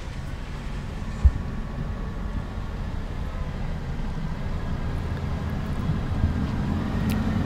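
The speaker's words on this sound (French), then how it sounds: "il y a le camion qui passe" A truck passes by outside, heard indoors as a steady low rumble that fills the whole stretch, with one brief thump early on and no speech.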